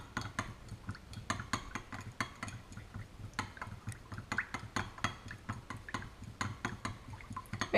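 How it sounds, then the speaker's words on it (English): A utensil stirs melted plastic in a container while making Senko soft-plastic fishing baits: quiet, repeated clinking and scraping taps at an uneven rhythm, close but faint, with no talking. "Make sure you stir it very well each time so you don't get hot spots"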